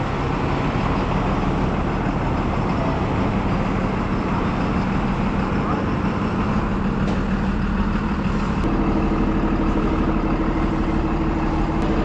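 An MSRTC Tata BS6 bus idles at a station platform, a loud, steady diesel rumble close by that continues unbroken throughout.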